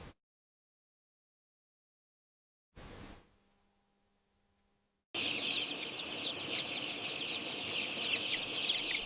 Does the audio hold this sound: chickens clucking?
yes